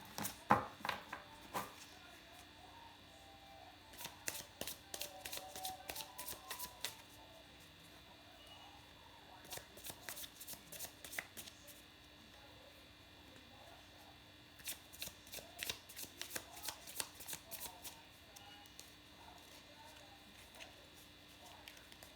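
A tarot card deck being shuffled by hand: quick bursts of riffling and flicking card clicks come in several clustered runs, close and fairly quiet, with soft background noise between them.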